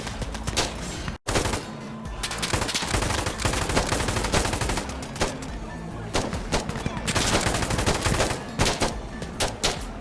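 Dense, loud rapid gunfire from the video game Insurgency Sandstorm, with sustained automatic bursts and single shots nearly continuously throughout and a brief cut near the start.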